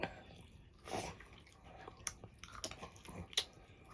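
Quiet, close chewing and biting while eating spicy pork larb, with irregular wet, crunchy bites and smacking sounds scattered over about four seconds.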